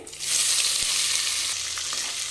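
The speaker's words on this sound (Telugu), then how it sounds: "వీటిని కూడా బాగా ఫ్రై చేసుకోవాలి ఆనియన్స్ కాస్త ఎర్రగా వేగాలన్నమాట" Sliced onions and green chillies frying in a pan for mutton curry, giving a loud, continuous hissing sizzle close up with a faint stir or two and no talking.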